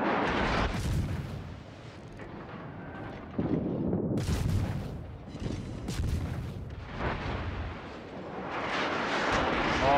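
Main guns of the Shimakaze destroyer in World of Warships fire in heavy booming salvos, with several loud blasts spread over the stretch against a constant rumbling battle backdrop.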